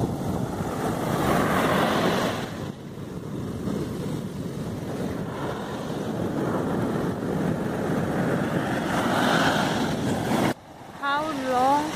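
Waves washing ashore at Jinha Beach in Ulsan, South Korea, a continuous loud surf roar mixed with wind buffeting the microphone, ending with a short shift in the noise.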